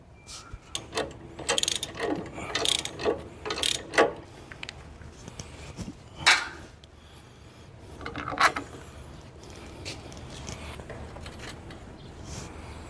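Ratcheting and clicking of parts being tightened while a KM Grand MGT-110F tiller is assembled, a series of irregular close mechanical clacks and scrapes with quiet pauses between, no talking.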